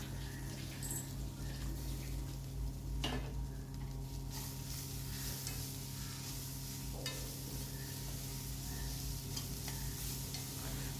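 Dried red chillies, tamarind and mint, coriander and curry leaves sautéed together in a pan for a chutney: a continuous soft sizzle and hiss with a couple of brief utensil scrapes, quiet and without talk.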